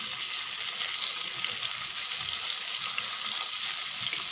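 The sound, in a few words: fish frying in hot oil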